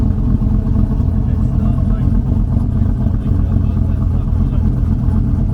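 A Chevrolet Silverado pickup truck's engine runs with a loud, steady low rumble as it warms up and pulls forward, close and continuous.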